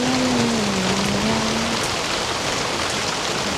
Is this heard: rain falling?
yes